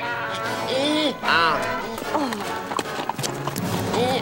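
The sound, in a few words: man imitating donkey sounds in dub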